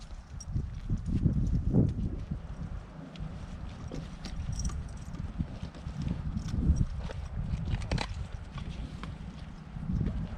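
Hooves of a draft horse in Ukraine clop steadily on the ground, a continuous uneven rhythm of walking steps, fairly close, with no talking.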